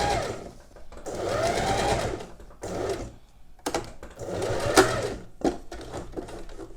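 Sewing machine stitching elastic lace trim, several bursts of fast, even needle clatter with short pauses between runs, close and clear with no talk.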